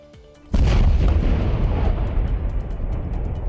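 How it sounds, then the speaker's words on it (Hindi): A single heavy bomb explosion from a controlled detonation booms suddenly and its deep roar rumbles on, slowly fading over a few seconds. "धमाके से अंदाजा लगा सकते हैं कि बम कितना खतरनाक था।"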